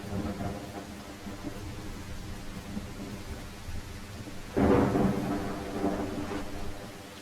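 Heavy rain hisses steadily in the survival game The Isle, with rolling thunder rumbling throughout and a louder crack of thunder near the end.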